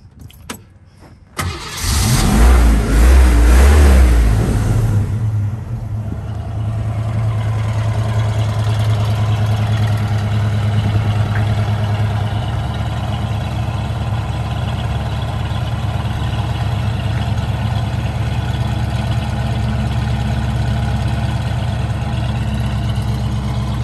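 A 1966 Ford Mustang cranks and fires up, revs loudly for a few seconds, then settles into a steady, deep rumbling idle close by with no talk.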